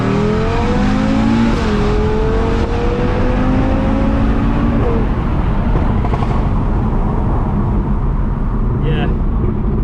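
A tuned 2020 Audi RS3 accelerating hard, its engine note climbing steadily and dropping back at smooth gear changes, loud and close throughout with voices talking over it.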